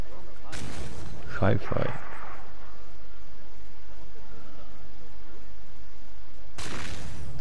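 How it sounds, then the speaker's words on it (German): Two loud, sudden explosion bursts in Planet Coaster, one near the start and one at the end, with a brief spoken word between them. "Noch eine Explosion."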